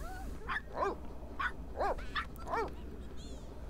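Several dogs in The Sims 3 life-simulation game bark and yip in short bursts, about five or six barks spread over a few seconds against a steady low background hum, with no talking.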